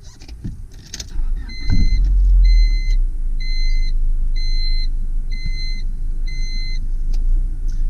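A 1997 Honda Civic Del Sol with a five-speed manual starts up: a brief cranking catch settling into a steady idle rumble, accompanied by a series of repeated electronic chime beeps.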